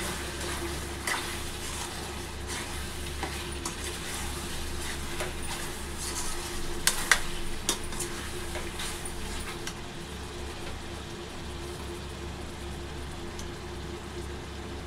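Chicken gongura curry sizzles and fries steadily in a pan with chili powder and coriander powder as it is stirred, a continuous close crackle with occasional scraping clicks.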